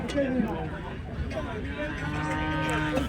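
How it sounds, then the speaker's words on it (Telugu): Calves at a cattle market in Chintamani, giving drawn-out moos that overlap one another, some close and others further off, with background chatter from the crowd. "మంచి దూడలు ఉన్నాయి ఫ్రెండ్స్."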